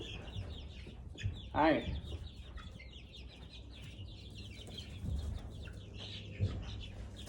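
Month-old hatched chicks, eighteen of them, peep and cluck in a crowded brooder, with one louder call standing out near the start and a short greeting spoken over the steady chatter.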